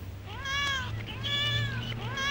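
Two young kittens meow repeatedly in high, drawn-out cries, close by over a low steady hum in an animated scene.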